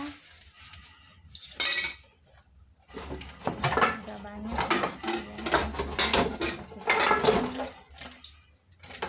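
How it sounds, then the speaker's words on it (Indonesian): Clinking dishes and rattling cutlery as things are washed and stacked, steady clatter throughout while someone talks over it. "membereskan cucian piring kita ya."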